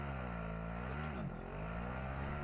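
Vehicle engine in the video game Modern Warfare 2, a steady close drone with layered harmonics that dips briefly in pitch mid-way, then settles back to an even hum, no talk.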